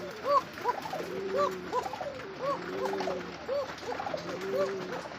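A pair of Kokka pigeons coo together in a repeated, rhythmic pattern of soft rolling calls, close by and steady throughout, with faint background noise.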